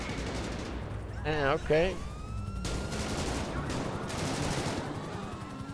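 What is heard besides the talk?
gunfire in the video game GTA 5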